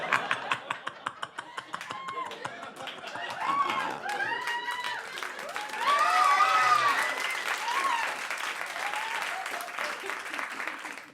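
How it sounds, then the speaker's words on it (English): At a comedy roast an audience breaks into applause, scattered claps at first that swell into fuller clapping mixed with laughter and whoops, while people speak over it. "I didn't force you to applaud there, did I?"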